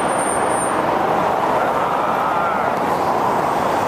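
Steady roar of freeway traffic at a bus stop in Southeast Bellevue, Washington: a loud, unbroken wash of passing cars and buses with no gaps or voices.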